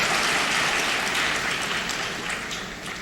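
An audience claps in a dense, hissing wash of applause that holds steady and then slowly fades over a few seconds.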